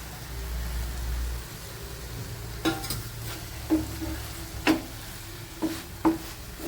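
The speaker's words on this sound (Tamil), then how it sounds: "இப்போ ஃப்ரை பண்ணி வச்சுருந்தா இறால போட்டுக்கணும்" Fried prawns go into a cooked spicy masala for prawn thokku, bringing a steady low sizzle in the pan punctuated by several distinct scraping stirs and clinks of a spoon against the pan, close up with no talking.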